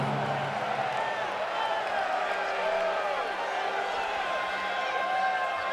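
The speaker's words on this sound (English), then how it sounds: "Listen to the reaction of this capacity crowd." A capacity crowd at a WCW Monday Nitro wrestling event in a Chicago arena roars and cheers in a steady, dense wash of noise with scattered shouts and whistles throughout.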